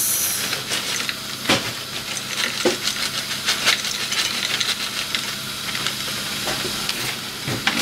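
Chopped onions hit a hot pan of browning mince, giving a continuous close hiss and sizzle. Light clicks and scrapes from stirring break through now and then.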